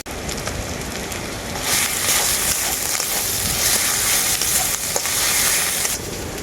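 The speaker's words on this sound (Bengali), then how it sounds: "আদা রসুন দুটাই খুব ভালো করে ভাজা হয়ে গেছে" Ginger and garlic paste fry in oil, a loud rushing sizzle that swells midway and stays strong before easing slightly at the end.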